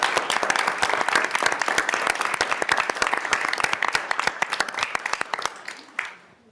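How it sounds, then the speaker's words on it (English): Audience in a House Ways and Means committee meeting applauds the pages, with dense, lively hand clapping that runs steadily before thinning out and stopping near the end, followed by a last isolated clap. "How about a round of applause for our pages?"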